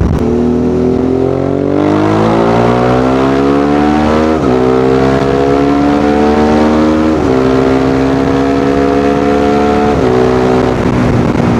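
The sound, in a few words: V-twin motorcycle with aftermarket exhaust revving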